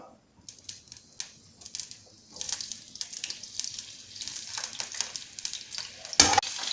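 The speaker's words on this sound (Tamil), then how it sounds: "ஸோ கட் பண்ணி அந்த கற்றாழையை இதில் ஆட் பண்ணிடலாம்" Aloe vera pieces dropped into hot oil for a homemade hair oil set off a quiet crackling sizzle that swells and grows busier after a few seconds, with one sharp click near the end.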